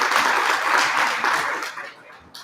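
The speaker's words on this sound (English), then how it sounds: "Let's give them a round of applause." Crowd applause at a spirituality expo, a sustained wash of clapping that gradually thins toward the end.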